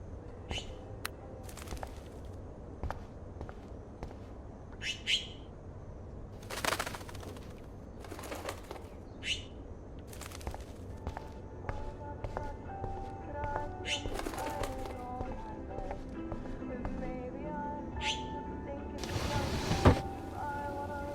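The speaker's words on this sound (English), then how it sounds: "that poor little bird has been trapped in here" A bird trapped indoors in the Life Is Strange video game gives sparse, faint chirps and brief fluttering bursts over a quiet background, with occasional soft tones and a voice now and then.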